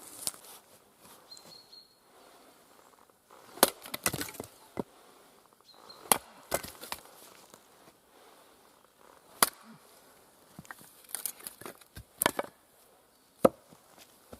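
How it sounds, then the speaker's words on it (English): Swedish axe splitting firewood on a chopping log outdoors, several sharp cracking strikes spaced irregularly with quiet gaps and small knocks between them, close and fairly loud. "I'm going to split the last one up"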